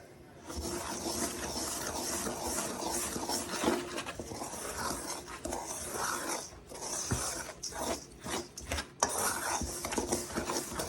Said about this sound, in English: Now we're going to stir this up.